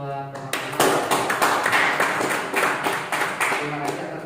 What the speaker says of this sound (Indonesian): kalau nggak ada tepuk tangan buat teman-teman.